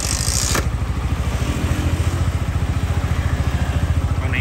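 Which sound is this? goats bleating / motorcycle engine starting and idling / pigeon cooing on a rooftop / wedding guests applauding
motorcycle engine starting and idling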